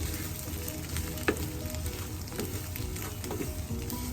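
Close, steady sizzling of egg fried rice in a pan while it is stirred, a constant frying hiss broken by occasional sharp taps and scrapes of the spatula.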